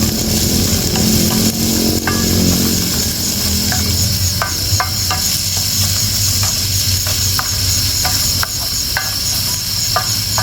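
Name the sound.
frying spices in oil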